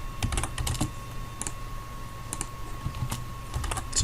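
Typing on a computer keyboard while working in AutoCAD, with scattered quick keystroke clicks in small clusters over a steady low hum, close and moderately quiet.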